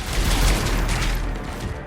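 Cannon fire in a battle from Mass Effect, a dense barrage of booming blasts and clattering mechanical noise with a continuous heavy rumble and no clear gaps between shots.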